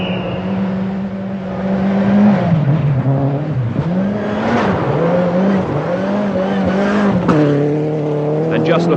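Rally car driven hard through the twisting Silverstone layout during the 1989 British Open Rally Championship, its engine loud and close, rising and falling with the corners, with tyre noise and a commentator talking over it throughout.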